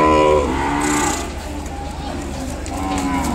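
Ongole cattle and calves at the Kodad market low in long harmonic moos, one loud and close at the start and another fainter later, over a constant hum of voices and market noise.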